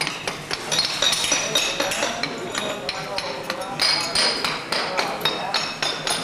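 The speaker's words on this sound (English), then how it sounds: "They hammer in all those little rocks." Workers hammer small paving stones into a sidewalk on a Prague street, and the rapid, uneven metallic taps overlap one another against busy outdoor background noise, with people talking nearby.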